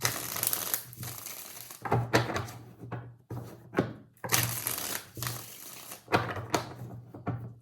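Tarot cards are shuffled in several brisk bursts of riffling and flapping, separated by short pauses, close up and fairly loud.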